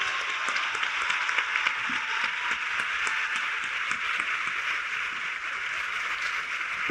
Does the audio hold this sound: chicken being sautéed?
no